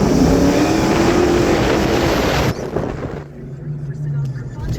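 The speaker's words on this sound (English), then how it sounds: "Trying to get you a little rip right here in between the buildings because the car sounds really good." A car engine revs hard between buildings, a loud, close, rough roar that fills the first half before dropping to a lower, steadier drone.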